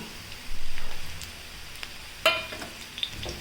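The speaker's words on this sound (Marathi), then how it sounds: "कांदा परतून झालाय हिरवी मिरची अद्रक लसूण टाकून घेऊ" Onion, green chilli, ginger and garlic sauté in oil with cumin in a pan, giving a soft continuous sizzle with stirring scrapes and one sharper clatter partway through, with no voices.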